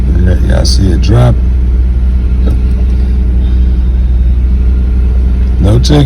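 A 1997 Buick Park Avenue with a fuel system problem idling, a steady low engine rumble running throughout, close and loud, while someone talks briefly at the start and end.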